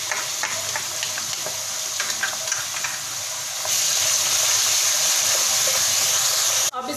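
Ginger and garlic hit hot oil with browned onions for a homemade chicken biryani, producing a loud, continuous crackling sizzle that intensifies partway through, with stirring clicks and no voices.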